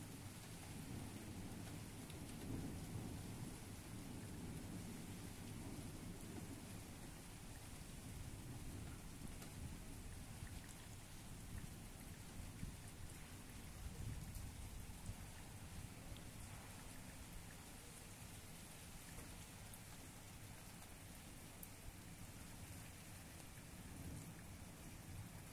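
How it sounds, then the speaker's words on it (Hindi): Heavy rain pours down steadily and loudly on a garden throughout, a dense, unbroken hiss with a low rumble of distant thunder underneath. "आज की इस वीडियो में मैंने आपको सिर्फ और सिर्फ बारिश का मंजर दिखाया है"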